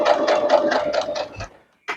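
Sewing machine back stitching a fabric potholder, a rapid rhythmic chugging of the needle in about seven even bursts that stops abruptly, followed by a brief click after a pause.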